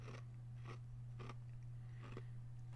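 Someone crunching ice between their teeth, four or five sharp bites spaced about half a second apart, faint and close over a constant low electrical hum.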